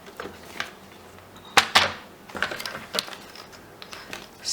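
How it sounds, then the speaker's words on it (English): Paper trimmer slicing cardstock while making a scrap card, a few sharp clicks and quick blade swipes, close and crisp, spaced irregularly over a quiet room. "And now you want to get out your paper trimmer."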